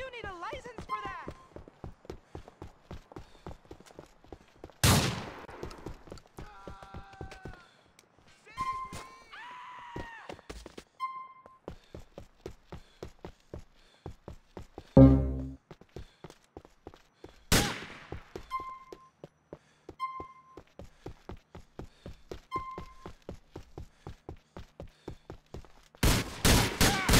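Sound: police gunfire in video game GTA IV: Episodes from Liberty City

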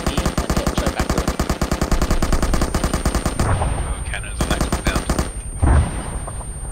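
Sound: aircraft cannon fire on a compound in video game Arma 3

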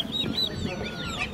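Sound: chickens at a bird market

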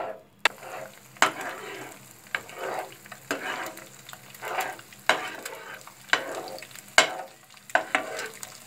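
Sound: egg frying in oil for egg Maggi

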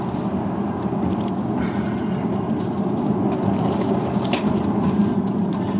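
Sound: Tesla Model 3 electric car driving through curves

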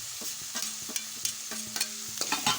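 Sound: stirring chilli-coriander paste into onion-greens upma

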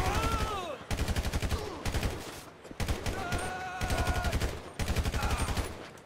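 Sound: gunfire in the video game GTA 5

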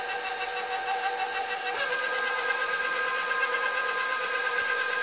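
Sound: electric mixer mixing cookie dough with eggs at low speed

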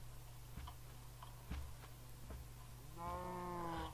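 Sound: cows in a video game

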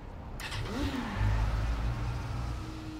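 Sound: motorcycle engine revving in the video game Saints Row the Third

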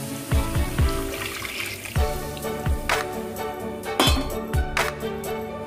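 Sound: pouring boiled milk into a pan

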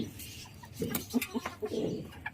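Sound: chickens clucking in backyard coop

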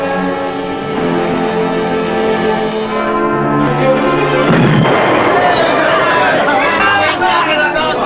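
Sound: submarine torpedo firing and explosion

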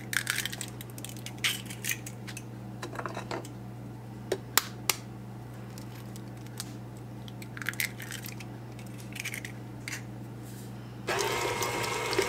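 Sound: mixer mixing eggs into cream cheese

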